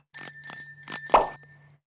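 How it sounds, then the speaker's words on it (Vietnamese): Bright metallic bicycle bell ringing in four quick separate dings with ringing overtones, close and clear against silence. "xe đạp,"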